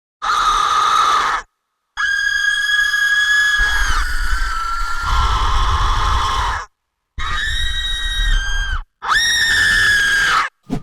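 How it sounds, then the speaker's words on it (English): Recorded human screams from the Soundpaint Hybrid Tools Evolutions sample library: four loud, sustained shrieks separated by short silences, each held a second or more with a bright, strained tone. "you ready for some actual literal screams?"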